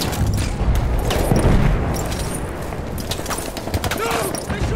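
Dense, loud gunfire from the World War I shooter Battlefield 1 on the Empire's Edge map, with bursts of rapid automatic fire and booming blasts running almost nonstop throughout, while in-game voices shout over the din.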